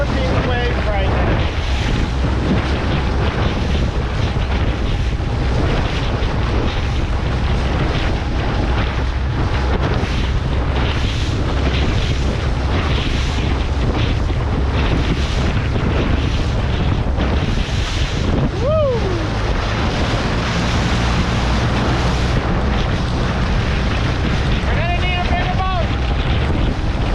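A small boat skims across wind-whipped lake waves on a solo camping trip, with steady loud wind buffeting the microphone, continuous water rush and slaps against the hull throughout, and a couple of brief high squeaks near the end.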